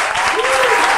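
Studio audience applause on a live Brazilian variety TV show, dense, steady clapping close and loud for a short burst.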